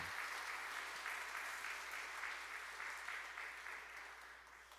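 Church congregation claps together in sustained applause, a dense, even patter across the sanctuary that slowly fades toward the end.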